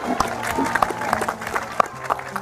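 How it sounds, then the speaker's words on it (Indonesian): Audience applause and crowd noise at a public event where officials report on road construction, steady clapping with a few sharper claps beneath a murmuring crowd. "Tepuk tangannya mana yang kenceng dong."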